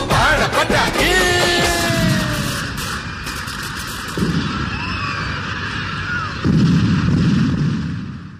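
Firecracker rockets set within a song, whistling streaks followed by booming bursts and crackle, several loud blasts spread through the stretch.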